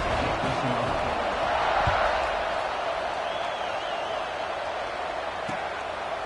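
Stadium crowd in the NCAA 26 college football video game during an Arkansas versus Florida matchup, a steady, dense roar of distant fans with faint shouts and thumps throughout.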